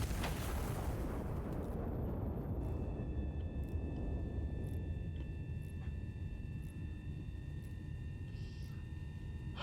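A self-propelled artillery gun firing in the video game Iron Nest: a heavy blast opens the moment and rolls into a sustained low rumble that persists, with faint steady tones rising above it later.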